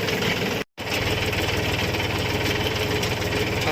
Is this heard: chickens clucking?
no